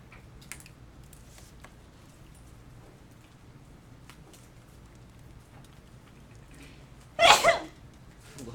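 A single sharp sneeze bursts out near the end, loud and close, after a stretch of quiet room tone with faint scattered noises.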